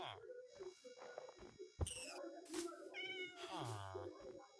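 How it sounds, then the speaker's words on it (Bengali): Cat meowing in the Minecraft video game, several short in-game meows and a drawn-out yowl in quick succession, with a faint voice underneath. "বিলাই বিলাই বিলাই"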